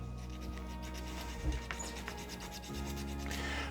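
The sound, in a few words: sanding parts of a Gundam Wing model kit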